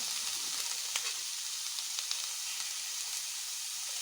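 Green peas frying in a pan for upma, a soft steady sizzle and hiss with a few faint stirring taps.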